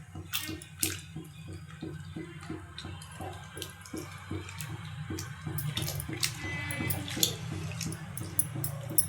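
Spinach dal kootu with sambar powder bubbles in a pot, a steady low simmer with repeated soft pops and blips at an even rhythm, close by and fairly quiet throughout.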